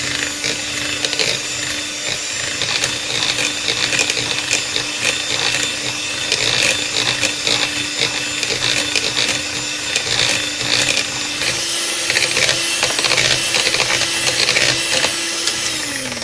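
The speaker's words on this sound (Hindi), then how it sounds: "अब इसे हम बीटर से बीट कर लेंगे।" A beater whisks gram flour batter for boondi, giving a continuous close-up buzzing motor whir mixed with rapid scraping and slapping against the bowl, steady throughout with no one talking.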